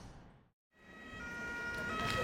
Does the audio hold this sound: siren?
yes